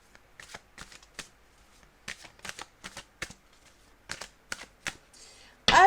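Tarot cards are shuffled and cut by hand in a quiet room, giving bursts of crisp riffling and slapping separated by short pauses, close and clear, ending with a sharp louder knock.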